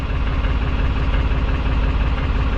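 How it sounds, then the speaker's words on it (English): A canal narrowboat engine idles just after starting, a loud, steady diesel chug with a regular low-pitched knocking rhythm that runs continuously close to the mic, with no talking over it. "just started his engine. It does work, you see, really."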